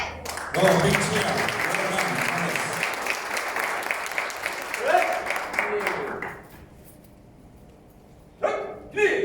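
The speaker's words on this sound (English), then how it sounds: "Oh, big cheer." An audience at a KMAA taekwondo belt presentation ceremony in Sunnybank bursts into loud applause and cheering for several seconds, then falls quiet before clapping starts again.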